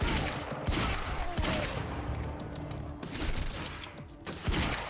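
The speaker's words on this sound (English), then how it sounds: "I assume the heavy pistol means it's shooting like a .50" Heavy pistol fire rings out in the video game Quantum Break: a burst of loud, booming shots amid chaotic combat noise, dense and sustained with sharp repeated impacts.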